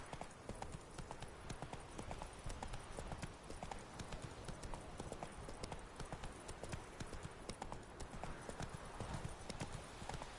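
Horse hooves clip-clop steadily at a trot in The Witcher 3, a continuous rhythmic beat of hoofbeats on a path, fairly loud over a bed of ambient game noise.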